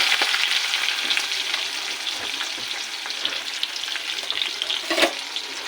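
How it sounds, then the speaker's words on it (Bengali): Chopped onions fry in hot oil in a kadai with bay leaf and cumin tempering while preparing a chicken curry, giving a steady, close sizzle with a few stirring scrapes and no talk. "পেঁয়াজ কুচিটাকে একটু ভেজে নেব"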